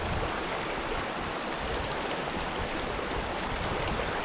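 A mountain creek runs past a campground in Great Basin National Park, its cold, clean water rushing in a steady, unbroken broadband wash, fairly close and with no voices over it.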